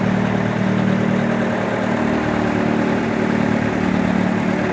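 Mahindra 575 tractor running at a steady 1600 RPM to drive a thresher processing paddy bundles into straw, a loud continuous engine drone with a strong low hum and machinery rattle, unbroken and close.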